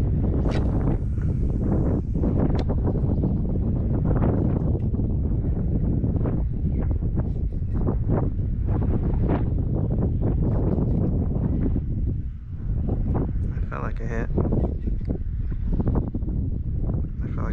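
Steady wind buffets a small fishing boat out on the water while fishing for redfish, a constant loud rushing roar against the microphone that runs unbroken throughout, with no talking.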